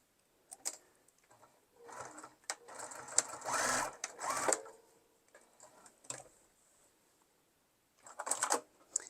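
Sewing machine basting along the edge of a tote bag, running in several short bursts with pauses between them, close and fairly quiet.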